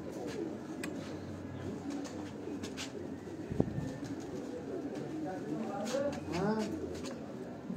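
Pigeons coo from a rooftop in Gujrat, their soft calls continuous at close range under a steady background wash, with a few brighter chirps near the end.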